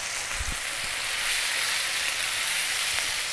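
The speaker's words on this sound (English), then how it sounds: "stir fry this around in the pan for 4 to 5 minutes" Potatoes sizzle and fry in a pan with garlic ginger paste for a vegetable curry, a steady broadband hiss holding throughout with a couple of soft low knocks near the start.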